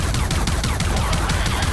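Rapid gunfire in the video game Far Cry 5, from its Lost on Mars add-on, rattles in a dense continuous burst of repeated shots that fill the whole stretch at high level, with no voice over it.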